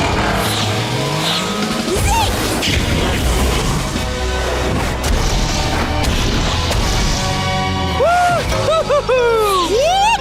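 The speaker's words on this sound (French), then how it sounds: "demandons à Zig de détruire tous les boulets avec son feu" Loud cartoon fire blasts destroy cannonballs in rapid succession, with crashes, booming impacts, whooshing sweeps and bright pinging tones layered under busy music.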